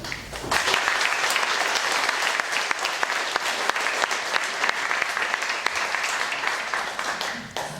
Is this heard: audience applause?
yes